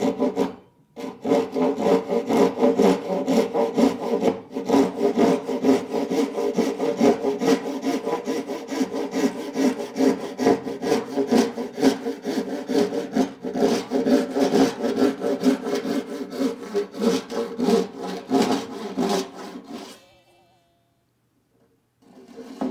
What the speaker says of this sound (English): come back for my rip cut.